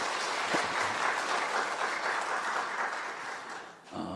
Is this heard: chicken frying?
no